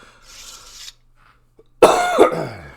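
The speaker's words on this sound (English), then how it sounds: "apologize for the coughing as always" A faint breathy sound, then after a short silence one loud, harsh cough close to the mic, with a rough second burst right after.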